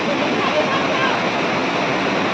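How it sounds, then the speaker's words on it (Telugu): A forest waterfall and stream at the Vasishta ashram in Guwahati pours with a constant, close, dense rush that stays even from start to finish. "ఇది వాటర్ ఫాల్, అడవిలోంచి జరి ప్రవాహం"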